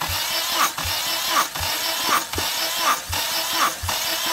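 Honda K24A engine cranking over on the starter during a wet compression test, a rhythmic chugging pulse repeating about every three-quarters of a second, moderately loud and steady, no voices.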